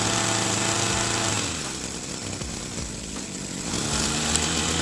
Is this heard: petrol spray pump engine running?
yes